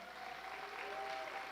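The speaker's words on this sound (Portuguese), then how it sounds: "Palmas para a célula daquele, gente." Brief, faint applause from a church cell group meeting, a soft steady patter of clapping lasting under two seconds.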